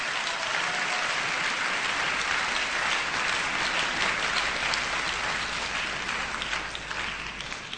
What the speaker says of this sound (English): I thought we'd give him a round of applause.